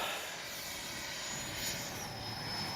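A Freewing F-18 90mm EDF RC jet runs at throttle, its ducted fan giving a steady, broadband whine that holds fairly even throughout with no talk.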